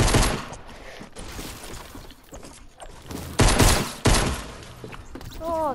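Video game gunfire in Fortnite comes in rapid loud bursts, volleys of shots cracking in clusters with short gaps and two heavy blasts near the middle, with no talk over them.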